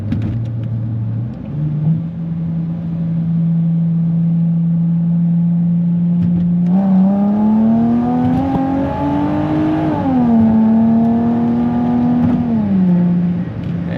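A Chrysler Crossfire SRT-6 pulls hard from a 40 mph roll, its engine drone rising steadily in pitch from inside the cabin, holding loud and continuous through one long shift-free pull before easing off at the end.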